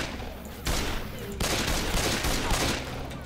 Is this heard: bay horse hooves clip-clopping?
no